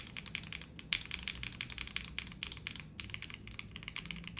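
A Monokei Kei v2 mechanical keyboard with Gateron Ink switches on a copper plate is typed on rapidly. It gives a close, steady stream of sharp clacks with one louder keystroke near the start, and no voices.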